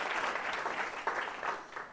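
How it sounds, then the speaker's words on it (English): A launch event audience gives a round of applause, steady crowd clapping for about two seconds, fairly close and even in level with a slight lift midway. "give Kieran an absolute massive round of applause"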